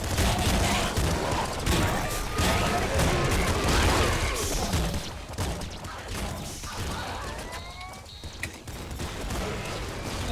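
Dense sniper gunfire and chaotic combat effects from the video game Nuclear Throne keep up a constant loud barrage, with rapid overlapping shots, whooshing projectiles and crashes throughout.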